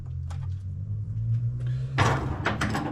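A drawer in a mower repair shop's side tool box slides, a scraping rumble running under a low hum and ending in a louder clattering slide near the end, with no talking.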